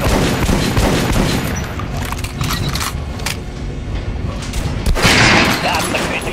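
Loud bursts of gunfire and impacts ring out at a shooting range in the video game Metro: Last Light, with sharp shots and clanking mechanical noises over a steady rumbling background.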